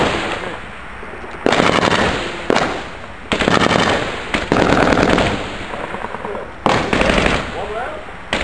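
Loud, close blasts and heavy crackling bursts from mortar fire by soldiers in Afghanistan, several long booming roars separated by brief pauses, with voices barely present.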